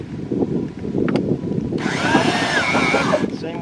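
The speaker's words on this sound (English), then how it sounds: "Drilling down to the crawl space to get to the wires." A drill bores down through the floor of a log home to reach the crawl space. The drill starts about halfway in as a loud, close, steady whir and runs to the end, after a stretch of rustling handling noise.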